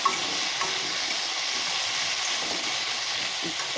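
Food sizzles steadily in a frying pan as it is stirred with a little turmeric, a dense continuous hiss with a few soft scrapes near the start, close and alone with no talking.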